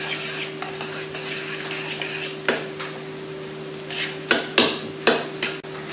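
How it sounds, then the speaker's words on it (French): Chicken drumsticks with salt and olive oil are stirred in a cooking pot over a low hum, giving a handful of scattered scrapes and knocks of the utensil against the pot, a few close together near the end. "Et maintenant, je mélange un peu."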